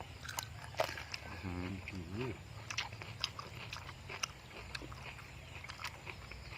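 Homemade crispy pork belly is bitten and chewed, giving faint, sharp crunches and crackles scattered through a quiet room, with a brief murmur of a voice partway through.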